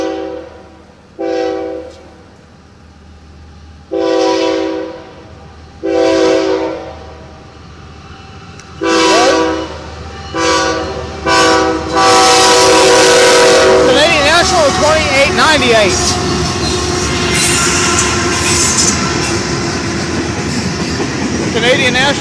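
Canadian National freight train 2898 blasts its horn in repeated long and short calls at an Effingham, Illinois crossing, then roars past close by with loud rolling rumble and rhythmic wheel clatter.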